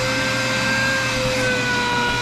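A vacuum cleaner runs inside a 1962 Comet car, sucking out the interior and door cavities, with a continuous loud motor whine and steady airflow roar and no speech.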